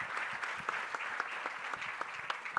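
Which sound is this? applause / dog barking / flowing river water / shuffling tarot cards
applause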